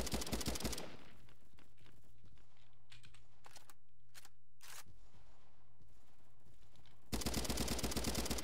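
Machine gun fire in the shooter game Bad Business comes in loud rapid bursts at the start and end, with quieter scattered shots and clicks between them and no talking.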